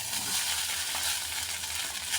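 Chicken fried rice being stirred and tossed in a frying pan, a steady sizzle with scraping spatula strokes throughout, close and moderately loud with no talk.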